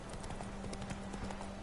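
Horse hooves clip-clop at a steady pace as a horse is ridden along a narrow path in the video game The Witcher 3: Wild Hunt, a dense continuous trot under game ambience.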